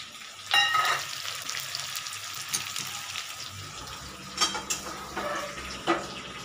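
Onions browning with tomatoes added in a pan, giving a close, steady sizzle with bright clinks and scrapes of a utensil against the pan at a few points.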